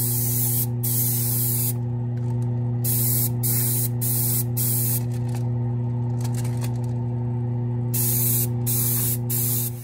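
An airbrush hisses in repeated bursts of weathering paint onto HO-scale Dash-9 locomotive shells, close and loud over a constant electrical hum, with short pauses between sprays.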